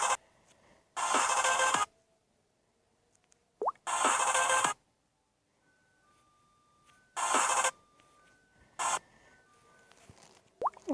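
A phone or tablet ringtone sounds in loud, separated bursts with short melodic tones between them, with quiet gaps in between.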